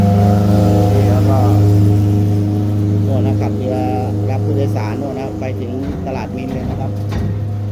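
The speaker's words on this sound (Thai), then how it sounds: "นี่ก็เป็นเรือโดยสารนะวิ่งอีกแล้วนะครับนี่เรือโดยสารของเรานะ" A passenger boat's engine drones steadily at a low pitch throughout on a canal by a pier, with wind and water noise, waves hitting the pontoon, and some clattering over the top.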